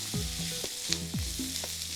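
Food frying on a high flame for a dish to eat with chapati, with chopped onion nearby: a steady close sizzle runs throughout, broken by several short scraping stirs and a brief clink.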